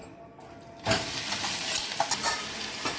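Blended onions are dropped into hot oil, which bursts into loud sizzling and then keeps frying steadily while a utensil stirs with a few sharp scrapes nearby.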